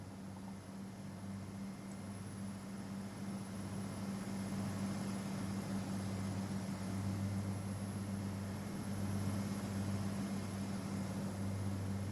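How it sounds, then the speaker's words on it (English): A Transport for Wales passenger train pulls out of Chester station bound for Manchester Airport, a steady low engine drone with a faint high whine that holds constant and swells slightly toward the end, with no voices. "going out now is the 1152 Transport for Wales service to Manchester Airport"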